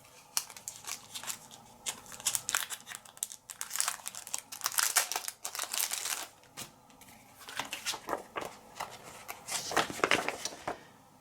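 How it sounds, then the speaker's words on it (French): Paper crinkles and rustles close by in repeated bursts as an envelope of game cards is opened and handled, with a few short tearing and shuffling sounds across about eleven seconds. "avec cette fois-ci l'ouverture de l'enveloppe numéro 3"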